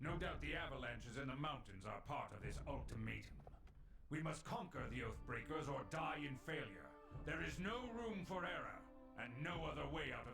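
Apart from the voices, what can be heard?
No everyday noises stand out.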